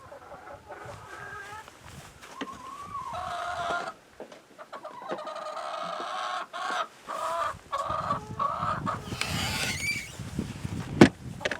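Chickens cluck and squawk in a chicken run on a winter farm, irregular bursts near and far with a rooster-like call, broken by a short quiet stretch and mixed with handling noise.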